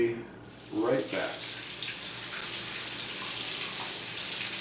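Boiled books being rinsed under a running tap, a steady close splash of water that swells briefly near the start and then continues evenly.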